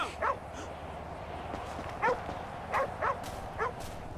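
A dog barks in Grand Theft Auto 5, a handful of short yips and bow-wows spaced across a few seconds over a steady game background hum.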